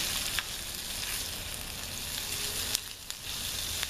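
A Philly cheesesteak sizzles steadily in a Stanley Base Camp skillet while cooking in a camper van, a soft continuous frying hiss with a few light stirring clicks.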